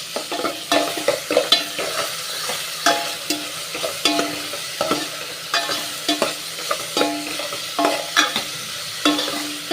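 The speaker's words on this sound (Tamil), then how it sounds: "தக்காளி வதங்கட்டும்" Tomatoes sizzle steadily in a hot pan while a utensil stirs and scrapes at irregular intervals, close and fairly loud, with no talking.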